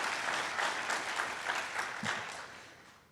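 An audience at a Medicaid community forum claps for about three seconds, a dense burst of applause that gradually thins and fades.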